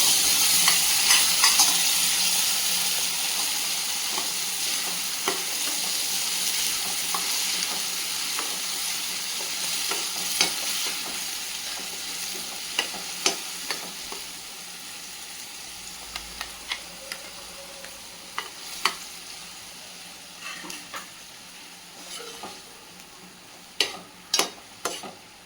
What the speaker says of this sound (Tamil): இது நல்லா பச்சை வாசனை போகிற அளவுக்கு நல்லா வதக்கிக்கலாம்.